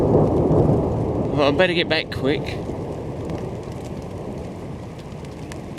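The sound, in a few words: thunder and rain outdoors at camp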